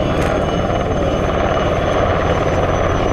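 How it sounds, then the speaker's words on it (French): An NH90 Caïman French Navy helicopter flies a display at the Breizh Airshow 2024, its rotor and turbine roar loud, close and constant throughout with no talk. "ce NH90 Caïman, c'est un hélicoptère de nouvelle génération doté des derniers équipements"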